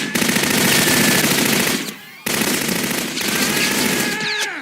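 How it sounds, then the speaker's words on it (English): Rapid automatic gunfire from a 1988 action movie street ambush in broad daylight, loud sustained bursts of shots that break off briefly and then resume, with faint voices underneath. "several of Zagon's men straight up fire on him, in broad daylight, in front of witnesses"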